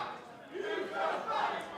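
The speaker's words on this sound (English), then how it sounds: "now the crowd urging him on into a low blow" Wrestling crowd at a North Wrestling event shouting and roaring together, a dense, sustained swell of voices rising and falling over about two seconds without a break.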